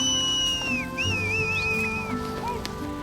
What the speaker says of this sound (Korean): 가축의 대열이 흐트러지자 사람들은 연신 휘파람을 붑니다.